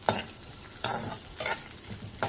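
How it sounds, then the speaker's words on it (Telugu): Chopped onion pieces, curry leaves, chillies and crushed garlic fry in ghee in a pan for gongura dal tempering. A steady sizzle runs under four sharp scraping stirs spaced through the stretch, and no one speaks. "అవి వేసుకొని కొంచెం సేపు ఫ్రై అవ్వనివ్వాలండి."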